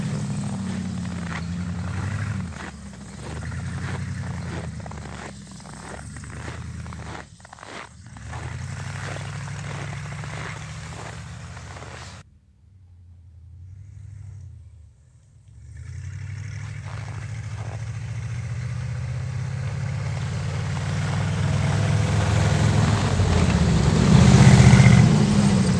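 Bombardier snow vehicle engine droning steadily through a first test run after plowing deep snow on a river, a loud low rumble with a brief dip to near quiet midway before surging back and swelling louder.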